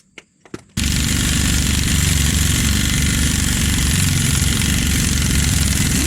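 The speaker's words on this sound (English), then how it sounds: "can't beat an air gun in this situations" A pneumatic air impact gun running on a 1995 Ford F350, a few brief clicks then a loud, sustained close-up rattling hammer of the tool that continues steadily without pause.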